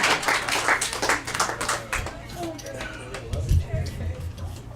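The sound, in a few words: audience applause and clapping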